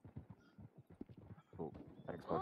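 Horse hooves clip-clop in a Western roleplay video game set near a stable, a quick run of near, rhythmic thuds that grows louder and busier toward the end, with a brief whinny-like tone.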